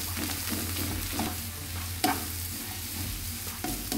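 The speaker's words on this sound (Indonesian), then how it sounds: "ini kita tumis semuanya sampai harum" Spices sizzle in hot oil as they are stir-fried in a wok, with scraping strokes and a sharp clank near the middle.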